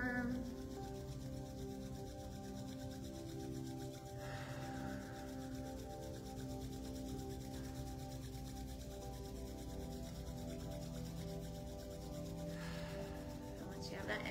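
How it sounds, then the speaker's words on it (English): Palms rubbing briskly together during a yoga session, a steady close dry swishing friction that runs continuously for the whole stretch over faint background music, with no one talking. "we're going to start rubbing our hands together, making them nice and warm"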